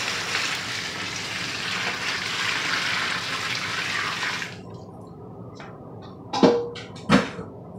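Salt brine poured over freshly harvested purple cauliflower in a pot, a loud steady gush of water that stops partway through, followed by two splashy sloshes.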